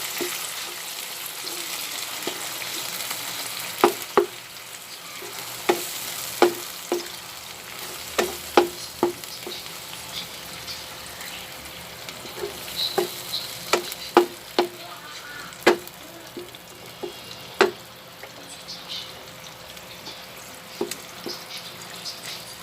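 Corned beef (karne norte) frying in a pan, with a steady soft sizzle broken by sharp scraping and stirring clicks scattered through, close up with no talking.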